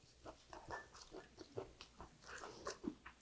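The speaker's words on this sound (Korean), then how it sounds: "껍질째 찐 땅콩을 한번 먹어볼게요." Crunchy steamed peanuts eaten in the shell, a run of close, quiet crunching bites and chewing with an irregular rhythm over about three seconds, no talking.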